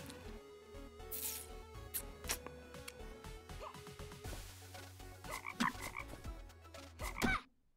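A frog in the video game Micetopia croaks repeatedly against layered game sounds and music, with the croaks clear and fairly close.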